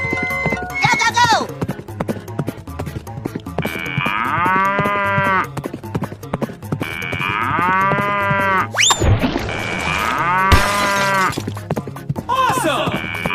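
Cattle mooing in a 3D animal video game, several drawn-out moos rising over looping game music, with other animal calls and sound effects mixed in.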